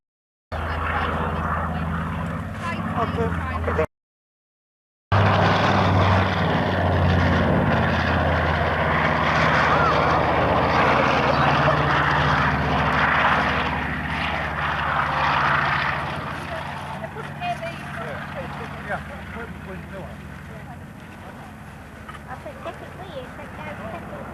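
A Harrier jet flies at the RAF Coningsby airshow in 1992, a loud continuous engine roar that holds for a long stretch and then eases as it draws away, with a commentator talking over it.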